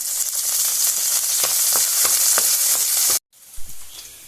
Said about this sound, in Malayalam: ഇഞ്ചി വെളുത്തുള്ളി പച്ചമുളക് ഇതിലേക്ക് കുറച്ച് കറിവേപ്പിലയും കൂടെ നമുക്ക് ഇട്ട് കൊടുക്കാം